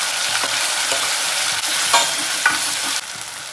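Ground masala paste sizzles in a hot pan with tomato and curry leaves while a spoon stirs it, steady frying hiss broken by repeated scraping strokes, close and loud.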